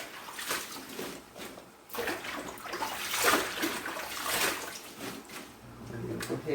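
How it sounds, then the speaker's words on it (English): Water gurgling and draining out of a kitchen sink after collard greens have been washed, a fluctuating rushing and splashing flow that swells and dips for several seconds, close by. "Go ahead and let this water out."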